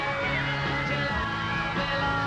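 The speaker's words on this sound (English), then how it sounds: "you can hear the screams in the background" Fans scream at London Airport in 1964 as the Beatles' Boeing 707 pulls onto the stand, a continuous loud wall of shrill crowd yelling with rising and falling cries.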